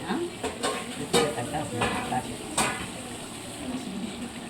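Masala for chicken biryani sizzles as it roasts in a pan, with periodic scraping strokes from a stirring spoon up close.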